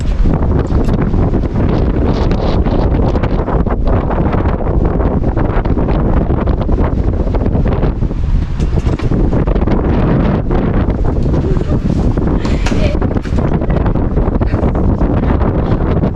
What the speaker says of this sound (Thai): ลมแห้งเลย